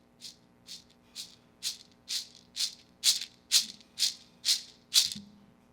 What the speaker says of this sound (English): a tempo-controlled stimulus, which is just a rattle in the same tempo as the music condition